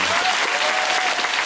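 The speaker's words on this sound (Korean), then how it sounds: "80회 동안 저희를 진두지휘해 주신 음악팀분들 그리고 원미설 감독님들 다시 한번 큰 박수" Dense theatre audience applause at the closing curtain call of the final performance of the musical Bare the Musical, a steady broadband roar of many hands clapping throughout with no pause.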